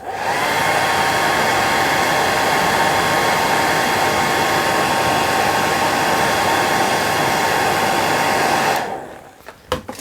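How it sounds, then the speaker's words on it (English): A hair dryer used to shape a feather for fly tying blows with a loud, steady rushing whoosh for several seconds, then switches off abruptly near the end, leaving a few faint clunks. "So we just blow it with the hairdryer just to show you the shape."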